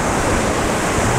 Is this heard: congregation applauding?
no